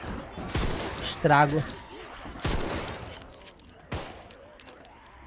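Gunshots in the video game Contagion, in a Roanoke police department escape map: several sharp, loud single shots spaced a second or so apart, with players talking in between.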